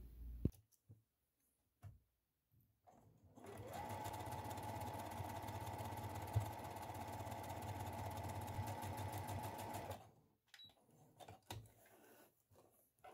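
A sewing machine stitches along the edge of a drawstring pouch casing in one steady, fast, even run lasting about six seconds, with soft clicks and handling sounds before and after.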